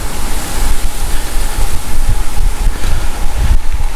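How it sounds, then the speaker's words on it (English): Strong wind buffets the microphone while riding a Trek Verve 2 Plus 2023 electric bike, a loud, continuous broadband roar with gusty low thumps and no speech. "Quite a windy day,"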